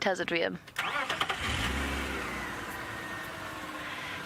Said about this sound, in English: I might have to turn the engine on.